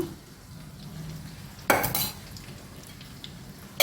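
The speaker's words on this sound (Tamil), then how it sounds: "இப்போ நெய்யில் தான் தாளிக்க போகிறேன்" Soft frying sizzle of spices tempering in hot ghee, with a couple of sharp metallic clinks and stirring noises from a pan, close by, no talking.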